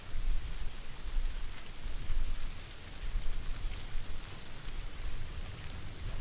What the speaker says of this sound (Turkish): Yağmur ne gereksiz ya.